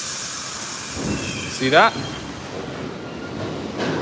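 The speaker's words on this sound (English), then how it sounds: "That is the one train." A New York City subway 1 train rolls past with a loud, steady rumble and a brief squeal, while someone speaks a few words close by.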